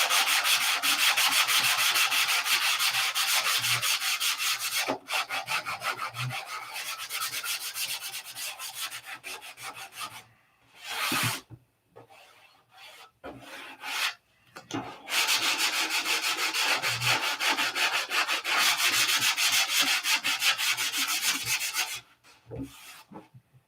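Sandpaper rubs steadily over a primed, painted car panel, a close, continuous scratchy rasp in long strokes, broken by a few short pauses.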